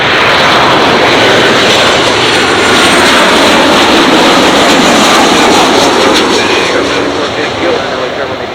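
A heavy jet airliner departs Los Angeles International Airport, its loud, broad engine roar filling the whole stretch and easing slightly toward the end, with no pause in the noise.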